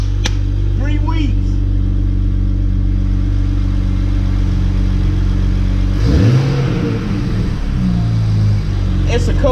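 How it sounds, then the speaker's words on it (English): A cold BMW 335i engine idles with a steady low drone, then is revved in a sharp rise and fall partway through, loud and close. "It's a cold engine and I'm revving it."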